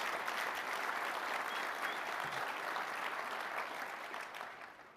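A room full of people at a cybersecurity company event applauds steadily and loudly for the whole stretch, a dense wash of clapping that tapers off slightly at the very end.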